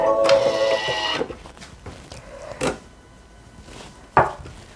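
A Thermomix TM6 food processor runs at soft speed in reverse at 100 degrees, its motor whirring with a tonal hum for about a second, followed by intermittent clicks and knocks from the appliance.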